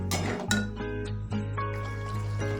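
Potato curry masala being stirred and sautéed in a pan: a few distinct clinks and scrapes of a utensil against the pan over a steady hum, with wet, sizzling texture underneath.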